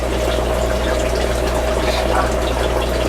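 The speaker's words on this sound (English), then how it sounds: "that water's just flowing in." Collected rainwater flowing into a container, a steady close rushing and gurgling pour over a low constant hum, continuous throughout.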